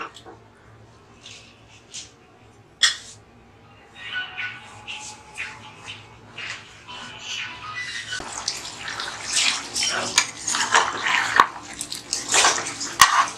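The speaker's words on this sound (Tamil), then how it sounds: "கொஞ்சம் தண்ணி வடிச்சுக்கிறேன்" Water is drained off mutton biryani cooked in a pressure cooker, starting with sparse clinks and small splashes, then pouring and trickling steadily louder into a vessel, close up.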